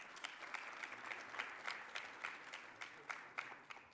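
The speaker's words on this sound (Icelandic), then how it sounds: "Gefum honum gott klapp." Steady applause from an audience honours an athlete at the Akureyri sportsperson-of-the-year ceremony, with many hands clapping at a moderate distance for a few seconds.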